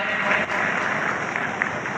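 Dense, steady applause from a large crowd at an outdoor community gathering honouring two men, continuous broadband clapping with no clear breaks for the full two seconds.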